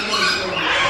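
A parrot gives one short, harsh squawk in a bird nursery at Parrot Mountain in Pigeon Forge, Tennessee, loud and close.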